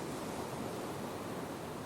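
Ocean waves wash onto a beach at rising tide, a steady, soft broadband rush of surf with no distinct breaks, moderately quiet and continuous without voices.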